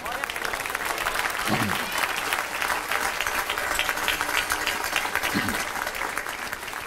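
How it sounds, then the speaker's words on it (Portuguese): A church congregation breaks into loud, sustained applause that fills the whole stretch, with voices calling out underneath the clapping. "Aplausos para o Senhor."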